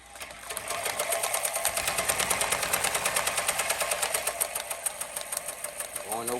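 Embroidery machine stitching across a hat seam, a steady rapid mechanical chatter running close and loud throughout with a voice briefly underneath.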